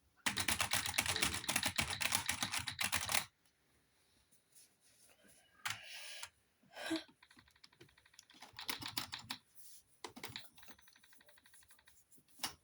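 Fast, dense typing on a computer keyboard for a few seconds, then scattered bursts of key clicks separated by short pauses.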